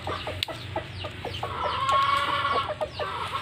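Guinea fowl on a poultry farm cluck and chatter in a busy flock, rapid repeated calls overlapping near and far, moderately loud and steady, with no talking.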